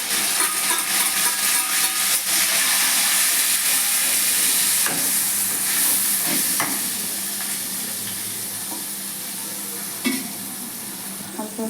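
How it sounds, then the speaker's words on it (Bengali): Mixed spice paste for Afghani chicken frying in hot oil: a loud, steady sizzle and hiss that continues throughout, easing slightly toward the end, with an occasional light stir or clink. "আমার মেশানো মশলাটা ছিল এই তেলের মধ্যেই আমি দিয়ে দিলাম।"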